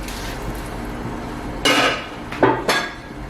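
Saudi shorba soup being stirred in a pot after water is added, a few scraping and clinking strokes of a spoon against the pot over a steady background hiss, with no voices.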